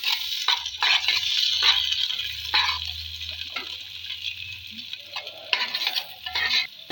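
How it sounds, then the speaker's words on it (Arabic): Onion sizzling in oil in a pot for Turkish-style lentil soup, with a spoon scraping and stirring in repeated close strokes over a continuous bright frying hiss. "هحط شوية زيت كده اهو يا جماعة، واحط بصلاية اهي واقلبها شوية كده"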